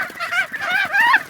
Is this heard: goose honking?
yes